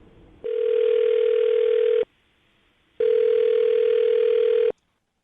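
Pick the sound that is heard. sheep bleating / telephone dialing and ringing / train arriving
telephone dialing and ringing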